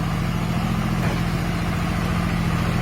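An engine runs steadily at a farmers' protest camp, a constant close mechanical drone with a regular low throb and no clear revving, alone and without voices.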